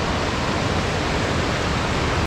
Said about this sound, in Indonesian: Sungai Ciherang ini alirannya lumayan deras ya